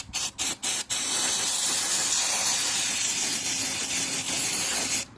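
Carburetor cleaner sprays onto a Scott Bonnar edger with a loud, close, steady hiss lasting several seconds, after a few short opening bursts.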